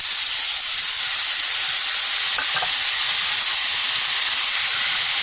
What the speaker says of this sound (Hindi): हमने मटन लिया था वो मटन पूरा डाल देंगे